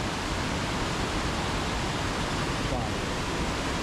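Tumatumari Falls on the Potaro River roars as a dense, steady wash of rushing water, loud and close, filling everything without pause.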